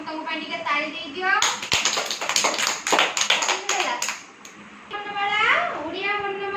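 Children in a classroom clap together in a lively burst of quick, uneven hand claps lasting a few seconds, with young voices talking just before and after.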